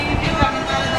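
Train cars riding on rails, a dense, continuous rumble with faint rattling and clacks, heard from inside the train at a fairly loud level.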